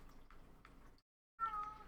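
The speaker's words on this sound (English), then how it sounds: "Oh, the kitty cat's here." A soft, distant meow rises after a short silence, faint and thin against a low background hum.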